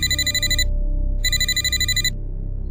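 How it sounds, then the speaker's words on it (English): An electronic telephone rings in two bursts, loud and close, with a short gap between them over a low room hum. "That's when my phone rang again."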